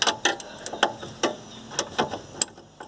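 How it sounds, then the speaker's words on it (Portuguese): Ratchet wrench tightening a bolt on a Chevrolet Blazer S10, a quick run of crisp clicks close by in an irregular rhythm, with no talk. "Ainda bem que a catraca ajuda"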